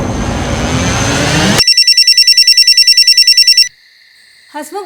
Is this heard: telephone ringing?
yes